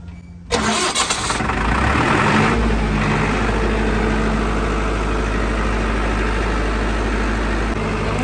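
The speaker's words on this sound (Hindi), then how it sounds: "बिल्कुल एक आवाज़ में इंजन चल रहा है।" A Kirloskar 82.5 kVA diesel generator, 4-cylinder 105 hp 4R1040TA engine, cranks and starts, then settles into a steady, loud, even idle with a deep low rumble, running continuously without voices.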